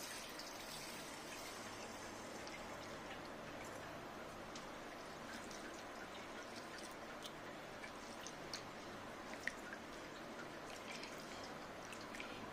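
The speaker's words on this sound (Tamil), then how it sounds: "அரிசி முழுகிற அளவு தண்ணி ஊற்றிடலாம்." Water poured over soaking basmati rice in a bowl, a steady, soft broadband wash with faint trickles and small clicks, continuous and fairly quiet throughout, with no talking.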